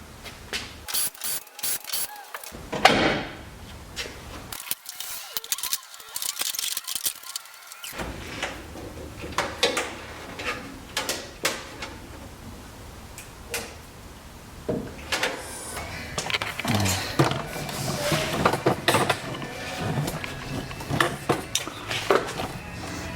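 Phillips head screws being removed from the dash trim of a 2008 Ford Escape during a radio install, heard as scattered close clicks, taps and rattles of screwdriver and plastic parts, with short quiet gaps and no talk.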